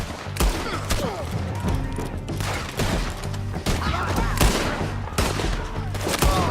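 Rapid bursts of gunfire from the video game Red Dead Redemption 2, loud and continuous over about six seconds, with sharp repeated shots and heavy thuds mixed with brief in-game shouting.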